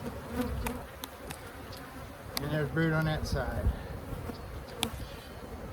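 Honey bees at an open hive during an inspection fill the air with a dense, steady buzz, while people talk nearby over the hum.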